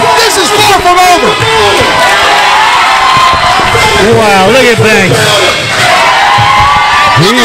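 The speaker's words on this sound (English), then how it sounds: "Aston, Delaware is out of their seats, going berserk." An independent wrestling crowd in Aston, Delaware roars and whoops wildly, loud and continuous, while a commentator talks excitedly over the din.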